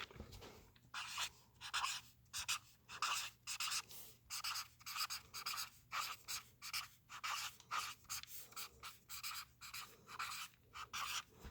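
A number is written by hand during a place value lesson: quiet, rhythmic scratchy strokes come in short bursts with brief pauses between them, faint and close, with no talking.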